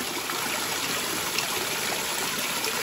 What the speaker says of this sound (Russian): Вот такой вот родничок.